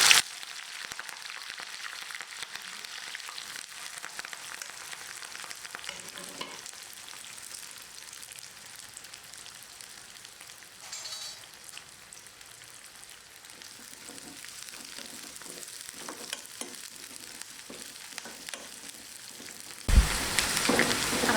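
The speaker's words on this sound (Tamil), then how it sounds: "தாளிக்கிறதுக்கு 2 ஸ்பூன் எண்ணெய் ஊற்றி அதில் கொஞ்சம் கடுகு" Mustard seeds, green chili and ginger tempering in two spoons of hot oil for rava upma, a steady close sizzle and crackle running throughout, with a sharper, louder burst of frying near the end.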